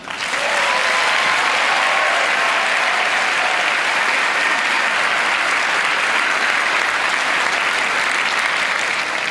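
Audience at a community action assembly breaks into loud, sustained applause that swells quickly and stays thick and even, with a few whoops rising above the clapping.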